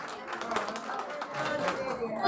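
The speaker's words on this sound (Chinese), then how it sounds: "谢谢大家的掌声" Audience applause at a lively sing-along gathering, a moderate patter of clapping hands mixed with crowd murmur and voices, fairly close and steady over a couple of seconds.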